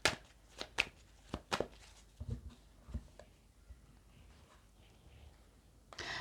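Oracle cards are shuffled by hand in a series of crisp riffling bursts and soft taps, close and fairly quiet, with pauses between them and no talking.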